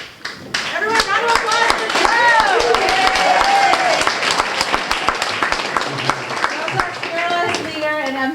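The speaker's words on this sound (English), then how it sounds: "Everyone, round of applause for Drew!" Audience applause at a town hall meeting on homelessness, loud close clapping with sharp individual claps standing out, while cheers and voices call out over it throughout.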